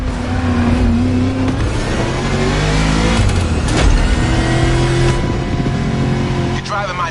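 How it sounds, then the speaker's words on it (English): The 1969 Mustang Boss 429 in The Crew Motorfest growls loudly and continuously, its engine rising and falling as it revs under a voice speaking throughout. "You're driving my #1 car, the star of my collection, the 1969 Mustang Boss 429."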